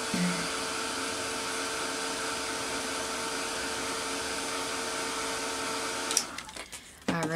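A hair dryer runs steadily for several seconds, drying freshly stamped ink on a card, with a constant whirring hum, then clicks off near the end followed by faint handling noises.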